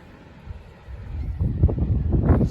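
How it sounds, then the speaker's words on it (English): Wind buffeting a microphone on Greens Beach, on the north coast of Tasmania, a low rumbling gust that swells from quiet into steady, strong blowing. "It's a pretty windy day today."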